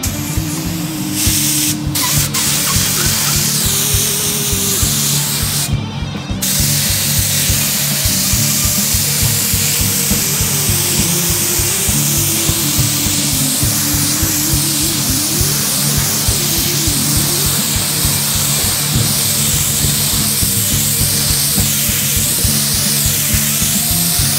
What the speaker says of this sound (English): Got our primer gun. We're going to lay down some primer.